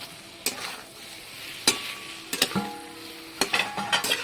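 Eggs dropped into a pan of spiced masala fried with luchi, giving a soft sizzle with sharp clinks of a utensil against the pan at intervals, close by and with no talk.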